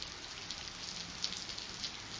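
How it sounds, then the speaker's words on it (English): Rain falling outdoors, a soft continuous hiss of drops on surfaces with a few slightly louder patters, faint and steady throughout. "I'll try my best not to get washed up by the rain here"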